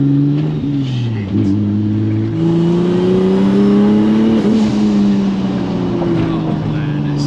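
A Ford F100 pickup with a twin-turbo Nissan 370Z engine swap revving, a loud close throaty drone whose pitch climbs and falls through several sustained revs, filling the whole stretch.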